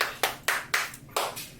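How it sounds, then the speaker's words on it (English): A few separate hand claps, about five sharp slaps spaced unevenly, close and moderately loud, with no talking. "let's just give them a round of applause"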